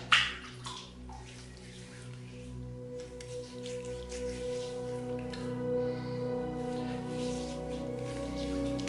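Water running from a tap while the face is re-wetted during a wet shave, a soft steady stream with light splashing and dripping close by over a low background hum.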